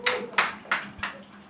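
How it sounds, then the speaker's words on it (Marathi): Four crisp hand claps ring out in a quick, even rhythm, close and fairly loud, applauding an elderly grandmother taking steps again. "सगळ्यांनी टाळ्या वाजवा आजींसाठी"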